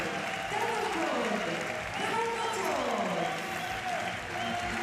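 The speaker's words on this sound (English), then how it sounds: "a warm applause for both men" Applause from a large arena crowd at the Paris Paralympic para judo bronze medal ceremony, steady and sustained, with a commentator talking over it throughout.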